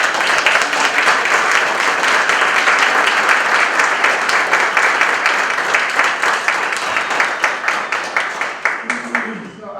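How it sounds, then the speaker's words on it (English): An audience at a Boston men's health summit gives sustained applause, dense and loud at first, then thinning into separate claps before fading out, with speech briefly audible. "Please give them a round of applause."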